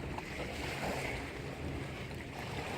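Water washes up on a riverside beach beside a pier, a steady close wash of small waves mixed with wind buffeting the microphone, with no talk.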